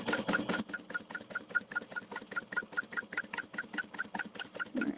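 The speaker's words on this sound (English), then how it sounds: "So I'm stitching about 1/8 of an inch around the outside of the overlay." A sewing machine stitching around the overlay on a fabric tote bag, a fast, even mechanical chatter of needle strokes running steadily throughout at moderate, close volume.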